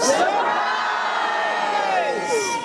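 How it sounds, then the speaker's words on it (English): A crowd of costumed guests at a live party show shouts and cheers together, a loud, sustained burst of many voices yelling at once. "at surprise parties people yell surprise"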